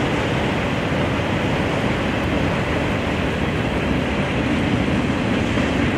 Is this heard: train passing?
yes